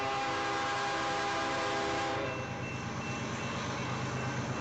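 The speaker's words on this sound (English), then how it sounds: "And it looks to me like this is just a regular manifest train." A westbound manifest freight train on the main line passes close by at modest speed, a loud steady rumble and clatter of wagons with sustained horn-like tones early on that ease off midway, no talk over it.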